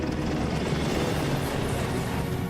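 An AgustaWestland EH-101 helicopter flying, heard as a steady, dense rotor and engine roar that holds at constant loudness throughout, broad and rumbling with no breaks.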